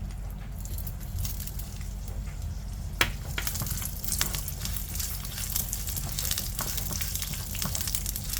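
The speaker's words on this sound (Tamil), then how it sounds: "முதல்ல நம்ம கொள்ளு நல்லா பொன்னிறமாக வறுத்துக்க போகிறோம்" Horse gram dry-roasting in a pan for thogaiyal, a continuous crackling, rustling sizzle with occasional sharp ticks and scraping stirs, close and steady throughout.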